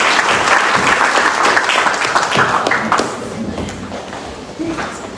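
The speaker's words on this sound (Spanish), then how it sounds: "Un aplauso de gratitud a nuestro Dios." A church congregation applauding, with loud dense clapping from many people that fades gradually toward the end, with a voice speaking through it.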